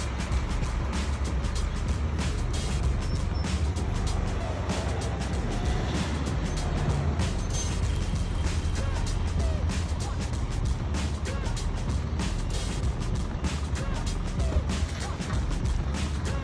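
A car drives along steadily with continuous engine and road noise, a low rumbling drone under frequent clicks and rattles, holding close and even throughout.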